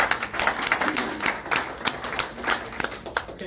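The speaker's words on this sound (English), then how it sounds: "Let's give him a round of applause." An audience at a county Republican Party event breaks into a brief round of clapping, many hands slapping in a dense, even patter that holds steady for a few seconds at moderate loudness.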